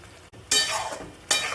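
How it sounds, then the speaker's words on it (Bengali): Chicken and potatoes drop into hot spice masala, and two loud sizzling bursts flare up over a quieter background, close to the pan. "দেখুন বন্ধুরা, এর মধ্যে চিকেন আর আলু করে এই দিয়ে দিচ্ছি।"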